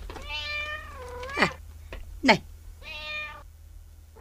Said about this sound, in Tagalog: Wen, pusa, agningaw.